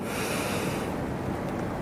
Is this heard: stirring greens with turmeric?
no